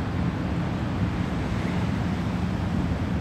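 Ocean surf breaking close in front of the shore, a steady broadband roar of waves and wind with no pauses or distinct crashes and no voices.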